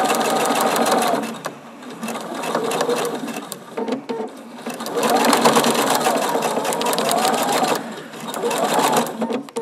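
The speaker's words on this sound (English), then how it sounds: "starting out in the seam allowance again, sewing on the line." A sewing machine stitches a seam along a marked line, starting in the seam allowance, running steadily in close, loud bursts with a few short pauses between runs.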